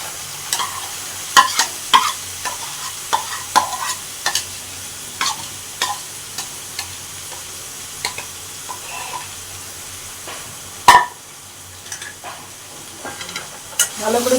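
Soybean chunks are stirred into fried spices in a pan. A low sizzle runs underneath while sharp spatula scrapes and knocks come at a steady, repeated rhythm, close and distinct, with no talking.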